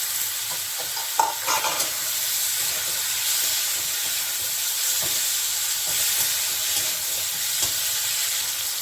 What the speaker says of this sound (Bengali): এখন এখানে এই যে বড় সাইজের দুটো টমেটো দিয়ে দিলাম